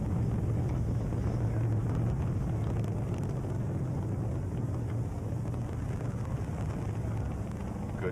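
A steady, broad roar from the solid rocket boosters during the Mars Observer launch. It is heard from a distance and holds constant without a break.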